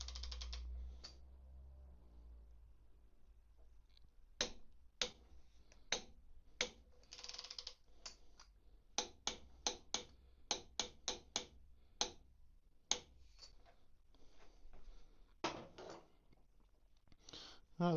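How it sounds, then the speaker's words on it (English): Torque wrench set to 40 newton meters tightening a bolt on a Triumph motorcycle, giving a series of sharp, close clicks in irregular bursts, some rapid and some spaced apart, over a quiet workshop background. "Now the torque wrench is already set at 40 Newton meters, so it's going to torque this up."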